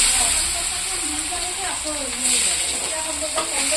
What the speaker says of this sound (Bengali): আমি এখানে পেঁয়াজ দেব।